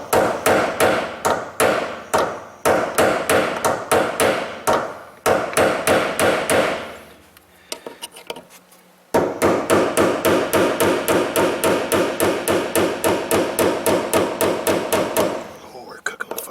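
Rapid, loud hammer blows ring out on metal in steady bursts during a Kia Rondo hard-start repair, with a short pause midway before the rhythmic pounding resumes and continues.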